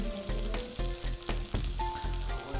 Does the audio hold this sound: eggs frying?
yes